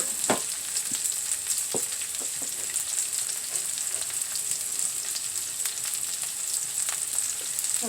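Rice with a sprig of thyme and reserved pineapple sautés in a pot, giving a constant close sizzle with scattered crackles and stirring scrapes and no voices.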